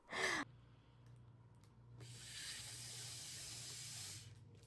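Breath is forced into a large inflatable to blow it up: a short sharp exhale near the start, then a long, steady airy hiss of blowing that runs for about two seconds before stopping.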